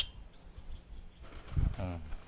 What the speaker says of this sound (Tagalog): Ayan po yung kalapati ko